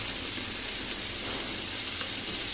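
A pan of fish curry being stirred, a dense, even sizzle and bubbling hiss that holds steady throughout, close and fairly loud, with no talking.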